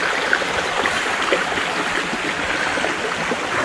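A jungle stream runs over rocks in a steady, loud, broadband rush of water, constant and close throughout with no voices.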